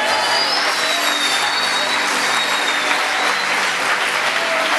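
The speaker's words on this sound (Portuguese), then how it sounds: "Quantos podem aplaudir o Senhor Jesus?" A church congregation applauds for Jesus at an Assembly of God service, a loud, dense and continuous wash of clapping with no voices standing out.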